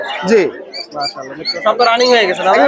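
Birds and pigeons at a busy bird market, with bright chirping and cooing calls close by, overlapping and continuous.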